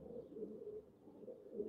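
Pigeons coo in soft, low repeated phrases close by, a steady murmuring flock sound with no talking over it.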